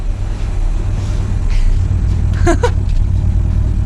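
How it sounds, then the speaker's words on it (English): A low, steady car engine and exhaust rumble idling nearby, fairly loud and constant, with a brief squeak partway through. "Let's have a listen to the exhaust before she dies."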